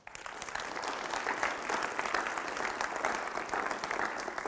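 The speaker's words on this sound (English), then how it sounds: "Round of applause for these kids." A school gym audience of athletes claps for a group of kids, steady dense applause rising quickly and holding at moderate loudness throughout.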